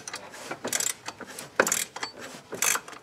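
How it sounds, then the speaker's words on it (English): A flex-head ratchet tightening a bolt on a 2006 Honda Ridgeline 3.5L during serpentine belt tensioner replacement, heard as several short bursts of metallic clicking close up, with quiet gaps between them. "Flex head ratchet."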